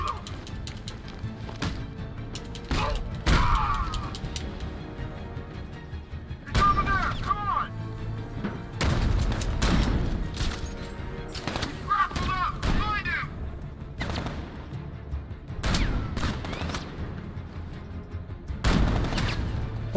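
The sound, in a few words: gunfire in the Batman Arkham Knight video game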